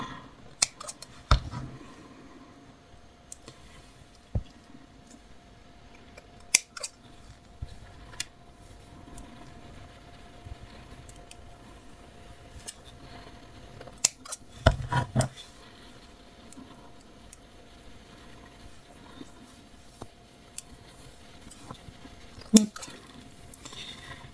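Sporadic snips of scissors cutting wool yarn for a small knitted hat, close and fairly quiet, irregular clicks scattered over a faint steady hum, no talking.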